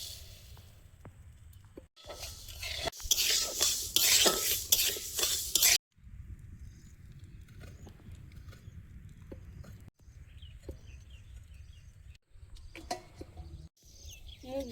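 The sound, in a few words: moong dal being dry-roasted and stirred in a kadai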